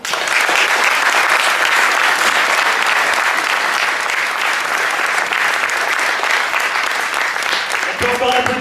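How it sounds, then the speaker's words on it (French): A crowd at a Paris community tournament ceremony gives a loud, dense ovation of sustained applause that continues unbroken, with voices mixed in at the end. "Faites une ovation à Zamir Asakali."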